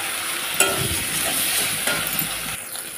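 Spice paste with a little salt sautés in a pan for a pointed gourd curry, a dense continuous sizzle with faint stirring scrapes throughout.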